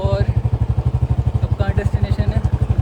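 A motorcycle is ridden on a mountain trek trip, its engine giving a steady, close, rhythmic low thumping throughout while people talk over it.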